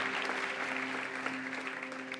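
Church congregation clapping during a Spanish-language service, a moderately distant, continuous patter of applause over a sustained musical tone.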